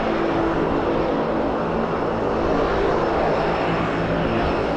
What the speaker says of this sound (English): But the plane is here!